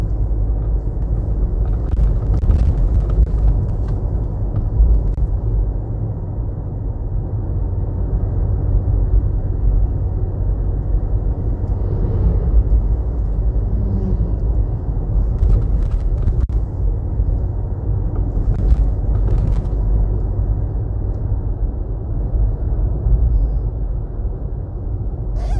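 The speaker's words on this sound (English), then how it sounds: "Look at these trucks." Heavy trucks roll along a road past Holland Bamboo in Jamaica, a steady loud low rumble of engines and tyres that carries on throughout with no talking.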